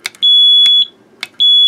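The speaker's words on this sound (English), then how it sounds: "that's the sort of audible alarm you would get" A PZEM-061 AC panel meter sounds its audible alarm, a loud, shrill electronic beep repeating in three evenly spaced pulses, each with a brief clicky onset, close and alone.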